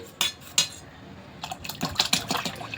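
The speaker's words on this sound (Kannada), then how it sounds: "ಇನ್ನೂ ಸ್ವಲ್ಪ ನೀರು ಹಾಕ್ತೀನಿ" Water splashes into a bowl of besan batter amid sharp clinks of metal utensils, a few distinct knocks then a busier patter of pouring and stirring.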